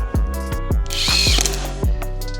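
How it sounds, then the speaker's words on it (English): A power drill whirs in short repeated bursts, its motor spinning up and winding down several times at close range. "I have to drill holes that I did not know that I needed to drill"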